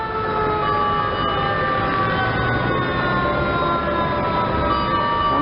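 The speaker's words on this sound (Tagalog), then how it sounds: "Ayun, nagwangwang isa." A fire truck siren wails from an overpass near a rotunda, its steady rising and falling tones sounding over traffic rumble, fairly loud and continuous.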